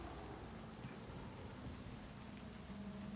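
Steady rain hiss with a low rumble in the Cyberpunk 2077 video game, moderately loud and continuous with no speech, a faint tonal hum running underneath.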